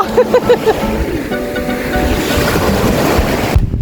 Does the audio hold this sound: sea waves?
yes